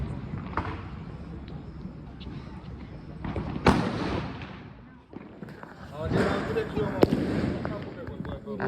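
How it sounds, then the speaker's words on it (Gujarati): Diwali firecrackers burst around a new home, with a sharp loud bang near the middle and another near the end amid fainter distant pops and crackles, while people talk in the background. "બધા ફટાકડા ફોડે છે"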